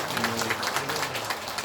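A crowd at a Korean lawmaker's New Year constituency report meeting gives a dense, steady round of applause. It is close and fairly loud and carries on through the whole short stretch.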